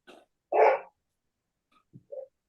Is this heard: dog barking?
yes